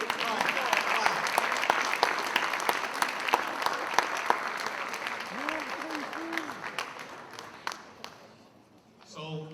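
Applause at a school career and technical education awards ceremony, a crowd clapping steadily with scattered sharp claps and a voice speaking over it, thinning out toward the end.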